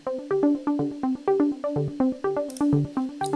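Moog synth arpeggio run through a ping pong delay, a steady rapid pattern of bright plucked notes repeating in even rhythm, close and clear with no voices.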